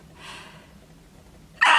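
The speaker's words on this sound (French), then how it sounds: "Je vais éternuer." A soft breathy intake, a short pause, then a sudden loud sneeze bursting out close up.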